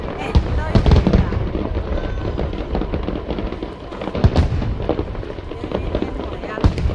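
Fireworks burst at a National Day show in Yunlin, Taiwan: dense, overlapping booms and crackles roll on continuously, with sharper thumps standing out, while a crowd talks nearby.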